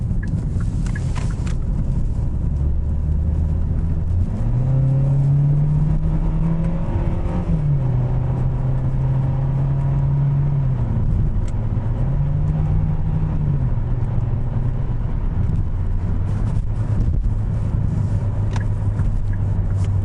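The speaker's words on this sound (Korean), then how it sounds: "이제 고속 영역에 들어가기 위해서 패들 시프트를 사용해 보도록 하겠습니다" A 2019 Hyundai Sonata 2.0 gasoline engine pulls hard under acceleration, its pitch climbing and then dropping at each quick paddle-shifted gear change, a steady loud drone throughout with no talking.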